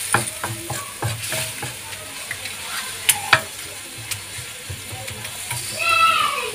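Tomato sauce sizzles and fries in a pan, close by, with a spoon stirring and scraping against the pan at irregular intervals and a rising hiss toward the end.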